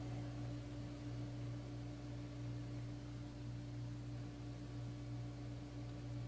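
Steady motorized hum from a Rebluum solar wireless outdoor security camera panning, a constant low mechanical drone with a tonal whine, continuous and fairly quiet, no talking.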